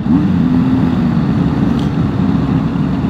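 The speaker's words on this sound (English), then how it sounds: "just give it a little blip on the throttle as you change down" A motorcycle engine runs at a steady, rumbling idle close by, with a brief throttle blip raising the revs near the start during a downshift, and no speech.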